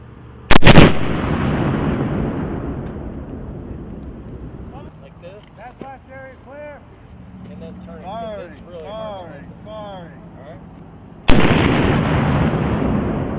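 Carl Gustaf M3 84mm recoilless rifle firing practice rounds, two very loud sharp blasts with long rumbling decay outdoors, separated by a stretch where people talk.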